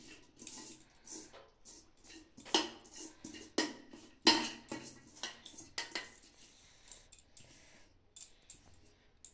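Cooked chicken biryani rice is tipped from a pot onto a metal plate, giving a run of scraping, clattering utensil knocks and soft pours that rise and fall unevenly.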